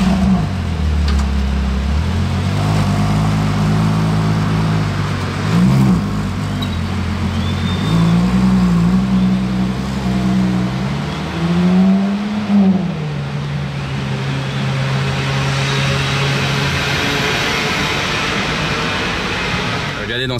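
A Ferrari Purosangue engine fires up in Monaco and settles into a deep, steady idle, then revs with rising and falling pitch, close and fairly loud.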